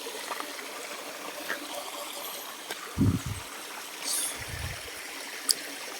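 River water flows steadily with a soft, continuous rush and gentle trickle, heard from nearby, with a few faint low thumps and brief knocks over the top.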